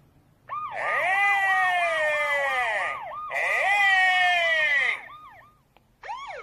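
A loud fire engine siren wails in rapid up-and-down sweeps, layered with a second tone, stopping briefly and resuming, very close.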